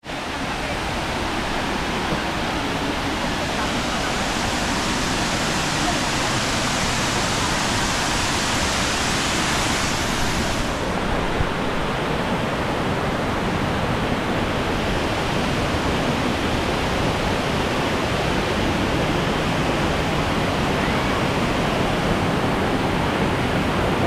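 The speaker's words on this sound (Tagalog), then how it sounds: "So lalapit tayo doon sa bagsak ng tubig." Falling water at Wawa Dam pours in a steady, loud, broadband rush that fills the whole stretch, close and constant, with no pauses.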